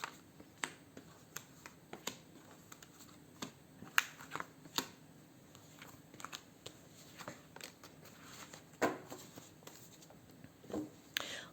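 Tarot cards are shuffled and drawn by hand: soft, irregular flicks and slaps of cards, quiet and close, with occasional sharper snaps.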